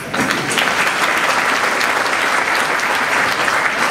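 An audience at an awards ceremony at the Hilton Park Lane applauds steadily, a dense wash of clapping that holds at an even level throughout.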